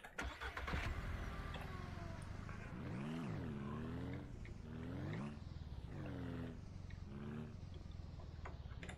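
An engine in the farming game Ranch Simulator cranks to life and revs up and down in several loud, rising and falling surges, with a steady motor drone running underneath throughout.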